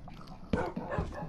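Minecraft wolves in the PlayStation 4 Edition give short, sharp game barks and yelps, two distinct bursts over a low background of play noise.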